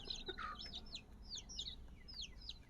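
Faint chicken clucking, with a run of short, high, chirpy calls repeated rapidly against a low background rumble.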